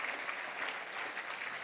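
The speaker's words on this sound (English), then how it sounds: "that's worth a round of applause" An audience at a touchdown club luncheon breaks into brief, steady applause, a dense patter of clapping hands with no voices over it.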